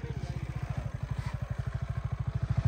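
A Hero motorcycle engine runs close by, thumping in a fast, steady chugging rhythm that grows slightly louder toward the end, with faint clatter and no talk.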